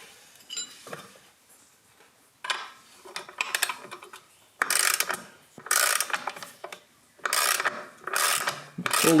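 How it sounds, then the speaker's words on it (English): A bushing driver draws a bushing into a John Deere 755 compact tractor frame, giving repeated bursts of metallic ratcheting and grinding, close and fairly loud, separated by brief pauses, with no talk. "Pull the bushing into the frame."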